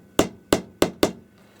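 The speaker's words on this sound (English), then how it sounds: "let's just try it on the edge of the hammer." Four sharp hammer taps on the flat metal case of a Signal Communication Corp R-537S airband receiver, evenly spaced and close, each strike ringing briefly before fading.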